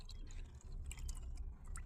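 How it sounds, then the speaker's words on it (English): Herbal tea made from garden herbs is poured into a cup, a soft continuous trickle with light splashing drips, quiet and close, with no talking. "so now I'm going to pour some in my cup"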